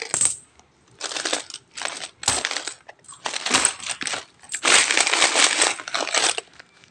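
Coins rattle and pour out of a piggy bank in repeated bursts of metallic jingling and clattering, loud and close, with short pauses between shakes and a long final pour.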